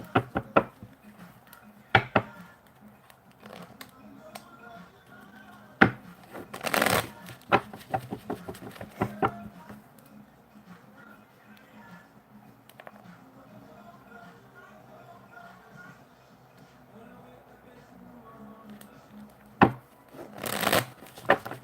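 Tarot cards shuffled by hand in a long stretch of crisp riffles and soft slaps, with louder bursts now and then and a quiet voice talking in places.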